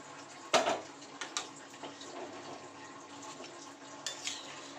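Vegetables cooking in water in a kadai are stirred with a spoon: one sharp metallic clank comes first, then scattered taps and scrapes against the pan over a low, steady simmer.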